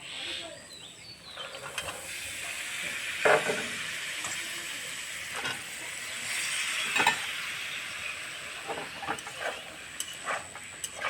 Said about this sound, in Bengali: মটরশুঁটি আর মিষ্টি কুমড়ো দেওয়ার পরে আরও কিছুক্ষণ ভেজে নেব।